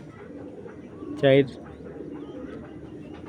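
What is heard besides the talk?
Giribaz pigeon cooing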